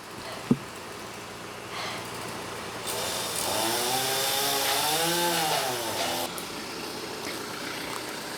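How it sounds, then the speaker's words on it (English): Chainsaw cutting a storm-damaged tree, its engine rising in pitch and revving in swelling waves through the middle of the clip, moderately distant, with a sharp knock near the start. "they got more fuel in the chainsaw"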